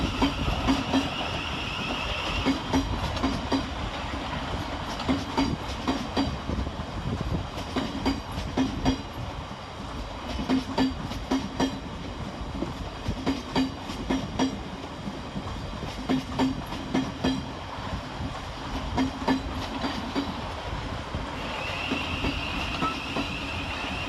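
A Class 700 Govia Thameslink electric train departs from Three Bridges station, giving a steady, loud rumble with repeated wheel clicks over rail joints that carries through the whole passage without a break.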